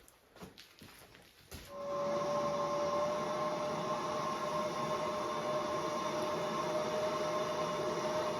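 MAP gas torch heating steel for forging a hot-cut hardy tool, a steady, sustained roaring hiss with a faint tonal hum after a brief clatter of ignition, continuous and close with no talking.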